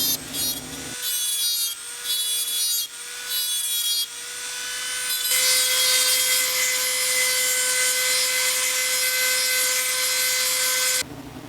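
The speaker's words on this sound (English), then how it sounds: "Take your Dremel tool with your cutoff wheel and just kind of shape in this area." Dremel tool fitted with a cutoff wheel grinding and shaping a homemade lightsaber part, a high, buzzing whine in short bursts that then runs continuously, close and loud with no talk.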